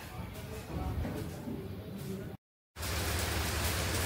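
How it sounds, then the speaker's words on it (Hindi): Heavy rain pours down in a steady, loud, broadband hiss. It cuts out briefly to silence for a moment, then resumes just as dense. "देखिए कितनी तेज बारिश हो रही है"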